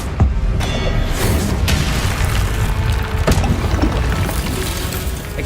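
A Confringo blasting-curse explosion in Hogwarts Legacy: a loud, dense boom with a few sharp cracking hits inside a sustained rumble lasting several seconds.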